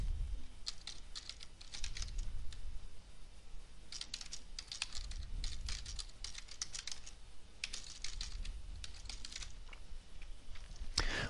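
Someone types on a computer keyboard up close, with quick bursts of crisp key clicks separated by short pauses and no talking.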